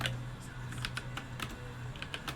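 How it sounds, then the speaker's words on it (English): Computer keyboard keys clatter in quick irregular bursts of clicks, close and steady over a low constant hum, with no voices. "I fat fingered a keyboard shortcut and that was very confusing."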